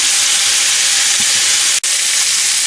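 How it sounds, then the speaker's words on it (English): Chicken pieces browning in a pan for a crockpot cacciatore give off a steady, loud hiss of sizzling fat, continuous throughout with one brief dropout near the end. "I'm just going to brown these up a little bit on both sides"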